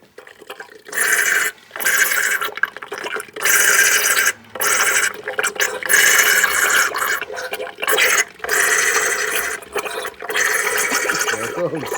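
A 4.8 LS V8 going into a 1955 Buick Special is primed with a garden sprayer, giving close, loud bursts of hissing and gurgling with short pauses between them.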